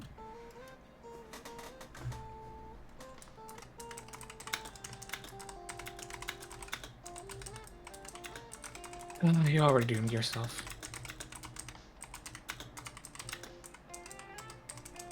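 Fast, furious typing on a computer keyboard clatters steadily through the clip beneath game sounds and music, while a voice talks over it.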